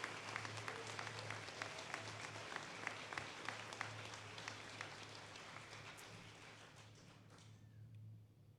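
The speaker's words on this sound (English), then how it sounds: "please join me in one last round of applause for all of our inductees today" Audience applause at a military Court of Honor ceremony for inductees, a steady wash of clapping over a low hum that fades out near the end.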